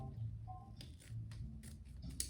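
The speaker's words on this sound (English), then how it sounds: "So I'm going to go ahead and trim it off." Scissors trim the ribbon tail of a bow on a fall floral arrangement, a few quiet, crisp snips close by in a hushed room.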